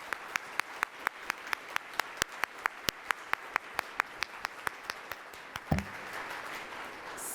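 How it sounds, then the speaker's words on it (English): Sparse, evenly spaced claps ring out one after another in a quiet civic-club forum room, ending with a soft thump and a low murmur. "Let's give them all a round of applause."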